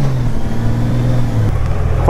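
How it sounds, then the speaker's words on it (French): Honda Goldwing motorcycle engine, loud and close, with a steady low hum that dips briefly as a gear shift happens quickly and smoothly partway through, then settles into a slightly lower tone. "Je ne sais pas si vous entendez le passage de rapport, ça se fait hyper rapidement."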